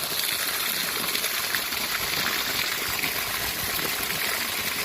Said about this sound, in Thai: ก็ถือว่าน้ำบาดาลใช้ได้ครับ ท่านดูใกล้ๆ